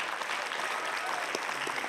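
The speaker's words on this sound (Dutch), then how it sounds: "ze zaten er doorheen te klappen" Audience clapping continuously at a children's award event, a dense, steady wash of applause that persists throughout without pause.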